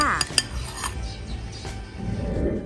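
A utensil stirs a dish soap mixture for a garden spray in a container, with clinks and scrapes against the sides at the start, then a steady swirling under the quieter end.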